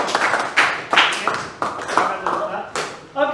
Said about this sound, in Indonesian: silakan beri aplaus buat kelompok temannya